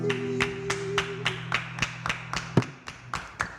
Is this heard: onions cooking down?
no